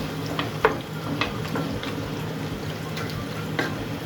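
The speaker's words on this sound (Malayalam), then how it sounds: "ഈ ചിക്കൻ നമ്മൾ നല്ലപോലെ ഈ മസാലയിലൊന്ന് മിക്സ് ചെയ്യാം." Chicken being stirred into masala in a pan, with a low continuous sizzle and a few soft scraping and clinking knocks of a utensil at close range.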